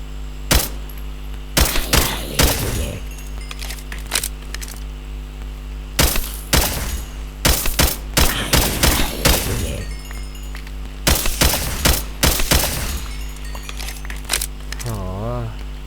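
Bursts of rapid Minecraft gunfire crackle in clusters, loud and close, over a steady electronic hum, with game-like impacts and shattering sounds between volleys.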